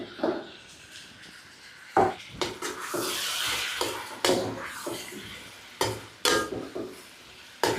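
Cut eggplants tossed into hot oil with ginger garlic paste, stirred in a pan with sharp scraping knocks over a soft steady sizzle, moderately close and without talk.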